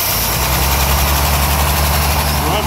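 A Chevrolet K10 pickup engine runs after a cold, dry crank, a loud, steady low rumble with constant vibration filling the clip, close by and with no speech over it.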